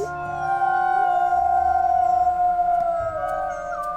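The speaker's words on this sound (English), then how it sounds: "We'll just keep howling and see what happens." Wolf howling in the video game WolfQuest: Dragon Pack, a long sustained tonal howl that rises and bends in pitch, with overlapping howls layered over a low ambient game background and no talking.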